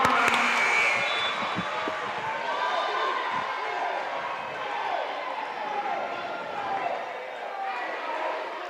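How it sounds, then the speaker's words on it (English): A crowd in a college men's basketball gym (EMCC vs. Holmes) keeps up a steady, moderately loud roar of cheering, with a few squeaks and thumps from the court, under a commentator talking throughout. "Crowd getting into this one"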